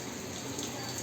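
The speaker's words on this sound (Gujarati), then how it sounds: "વરસાદ ચાલુ જ છે હજુ" Steady rain falling, a soft continuous hiss of water pattering outdoors, fairly faint, with no speech over it.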